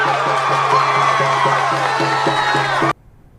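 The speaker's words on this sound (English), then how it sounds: "That cheering went on and on and on." A large crowd in Minneapolis cheers and whoops loudly for Ilhan Omar, a dense sustained roar that cuts off abruptly after about three seconds.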